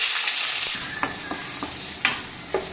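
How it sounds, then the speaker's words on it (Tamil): Cumin seeds frying in hot oil for capsicum rice, sizzling loudly and steadily close up, with a few sharp spoon taps and scrapes as they are stirred. "இப்போ ஆயில் சூடானதும் நம்ம எடுத்து வச்சிருக்கிற சீரகத்தை ஆட் பண்ணி கிளறி விட்டுக்கலாம்"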